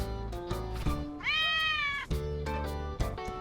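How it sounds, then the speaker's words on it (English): A cat meows in the video game Digital Devil Saga, one drawn-out, rising-then-falling meow in the middle, set among steady game music with no talk. "The cat? You mean a cat?"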